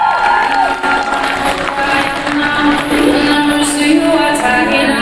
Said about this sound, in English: a round of applause for the beautiful answers